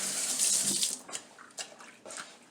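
Tap water running into a bathtub, a bright hiss at first that quiets into softer splashing, with a few separate sloshes and gurgles as something is pushed down into the water.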